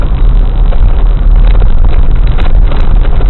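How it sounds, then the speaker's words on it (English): Heavy wind buffets past an open-top C4 Corvette on the move, a loud continuous roar with low rumble from the car underneath and no talking. "the top is down and the wind is blowing"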